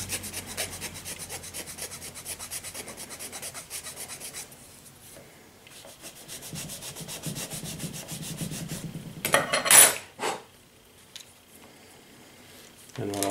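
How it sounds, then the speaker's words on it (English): Sanding a small part for an N scale model diesel locomotive, rapid close scratchy rubbing strokes in a steady rhythm, pausing, then resuming with softer rubbing and a few louder handling knocks near the end. "Sand it."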